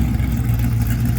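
A 1954 Chevrolet Bel Air's engine revs loudly and close by, a deep, rough, rumbling growl held steady for a moment without any talk.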